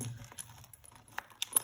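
Coins are handled in a quiet room, with a few faint, scattered clinks and jingles, soft and close, with no speech.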